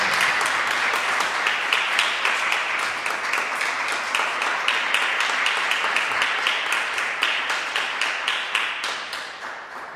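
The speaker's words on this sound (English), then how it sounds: "So, a round of applause." Audience applause after an evening talk, a dense sustained clapping from a room of listeners that holds steady for most of the stretch and then starts to thin and fade toward the end, with no voices over it.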